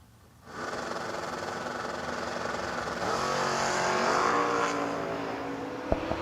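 Ragtop Chevelle launching on a drag strip, a loud engine roar rising in pitch through the run with a sharp crack near the end, heard from a distance at the track.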